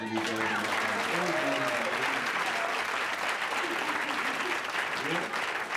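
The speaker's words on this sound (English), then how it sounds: "Let's give them a big round of applause" Comedy club audience at a Magic Club stand-up show gives a sustained, loud round of applause for the crew, thick continuous clapping with cheering voices and crowd noise blended in throughout.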